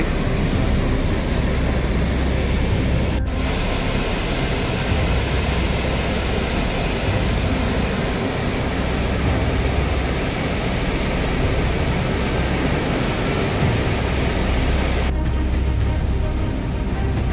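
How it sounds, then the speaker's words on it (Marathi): Dam water pouring over the spillway on both sides at the Nandur dam, a loud, constant broadband roar of rushing water that fills the whole scene without pause. "या धरणाचं पाणी दोन्ही साईडनी पडतं,"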